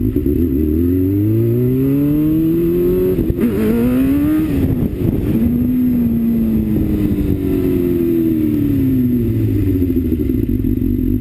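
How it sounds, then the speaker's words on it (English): A motorcycle revving hard as a learner rider attempts a wheelie, a loud, close engine note that climbs, dips as the gears shift, and surges again, steady and uninterrupted throughout. "we'll see if I can get it to do a wheelie."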